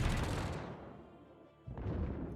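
A torpedo strikes a ship in World of Warships: a loud, heavy booming impact that decays over about a second, followed by a second sharp burst of noise.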